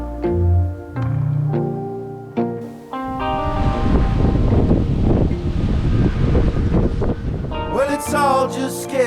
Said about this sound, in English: led us up a hill and back into the worst of the winter wind